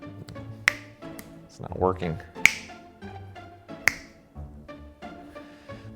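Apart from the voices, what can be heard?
finger snapping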